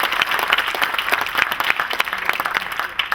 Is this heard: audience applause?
yes